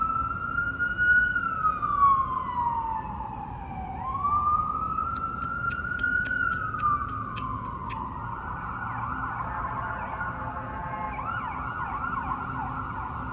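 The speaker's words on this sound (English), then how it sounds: "Can you guys hear that? It's an ambulance." An ambulance siren wails in slow rising and falling sweeps, then switches to a faster warble, fairly close over road noise.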